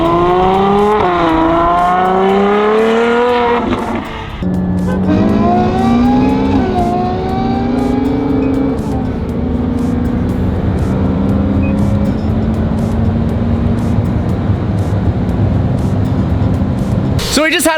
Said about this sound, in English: So we just had a little race action of a stock 720S versus the modified exhaust and tuned 812 Superfast